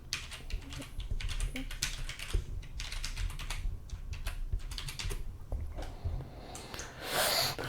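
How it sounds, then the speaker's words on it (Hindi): Password being typed on a computer keyboard while signing in through a web browser, a steady patter of close, quick key clicks throughout with low background hum. "मैं अपना पासवर्ड एंटर करूँगा"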